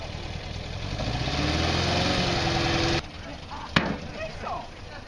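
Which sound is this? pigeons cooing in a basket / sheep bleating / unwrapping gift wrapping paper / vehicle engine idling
vehicle engine idling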